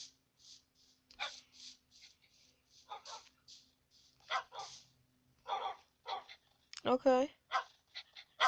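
Several dogs bark in short, scattered bursts, with occasional whimpers, at moderate distance. A person speaks briefly among the barks.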